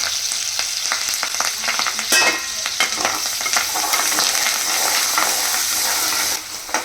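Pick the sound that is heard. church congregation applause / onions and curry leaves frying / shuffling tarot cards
onions and curry leaves frying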